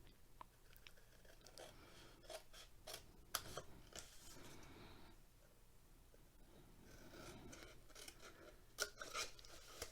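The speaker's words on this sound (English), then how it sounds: "We're going to cut up to the score line." Scissors cutting egg carton cardboard, repeated close crunching snips and rasping slides at irregular intervals, with quieter gaps between cuts and no talk.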